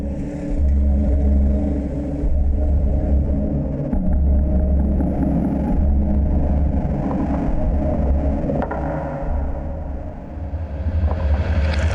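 A car engine rumbling and driving off, a loud, steady low drone that swells slightly as it pulls away, with no voices heard.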